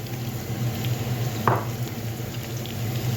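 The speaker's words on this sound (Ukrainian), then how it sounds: "Теж трошки перемішую." Chopped peppers frying in a pan for a vegetable pilaf, stirred now and then: a steady low sizzle throughout, with one brief scrape of the utensil midway and no talk.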